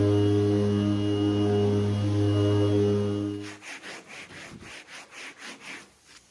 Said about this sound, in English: I sanded with my cordless Bosch sander.